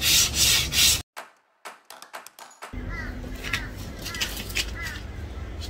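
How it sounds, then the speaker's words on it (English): Wood being scuff-sanded by hand with 120 grit sandpaper, producing a few loud rough rubbing strokes up close, then a pause with scattered light scrapes, followed by softer continuous background noise. "This is a 120 grit sandpaper. I'm gonna give it a scuff sand."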